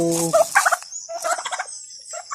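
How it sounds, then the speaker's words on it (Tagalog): A free-range native turkey gobbles in a rapid, warbling series of loud, close calls at feeding time, with short pauses between bursts. "So, nag-aatay na sa akin yung turkey."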